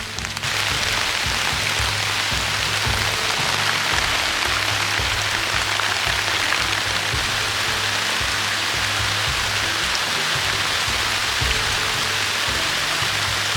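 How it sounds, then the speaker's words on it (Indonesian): Heavy rain pours steadily onto a forest shelter, a loud, dense, unbroken hiss of drops drumming on the roof and surroundings, with a low rumble beneath and no voices. "Di dini hari kita terbangun dikarenakan hujan yang turun cukup deras."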